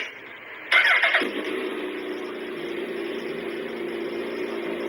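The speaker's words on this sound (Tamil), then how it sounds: "இப்பதான் எக்ஸாஸ்ட் நோட் எப்படி இருக்குன்னு சொல்லி கேட்க போறோம்." A Suzuki Hayabusa motorcycle with a 4x2 exhaust cranks briefly, catches with a loud burst, then settles into a steady, close idle that continues alone.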